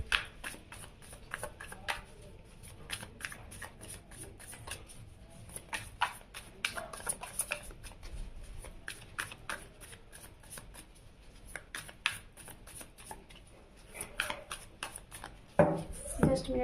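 Tarot cards are shuffled and drawn close up, with a continuous soft riffling and flicking of the cards that runs on at low level, interrupted by a few louder handling sounds near the end.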